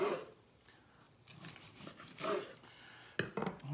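A knife slices through a bourbon and coffee brisket with soft, close cuts, followed by a few faint scrapes and a sharper tap near the end.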